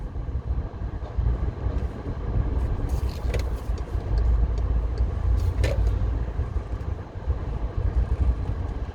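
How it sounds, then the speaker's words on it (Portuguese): A car creeps along slowly while parking in a long queue of cars, a steady low engine and road rumble running throughout at moderate level with no talking. "Estou estacionando já"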